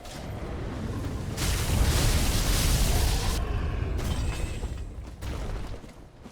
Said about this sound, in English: The explosions are actually from the weapon art of the Millwood Greatbow.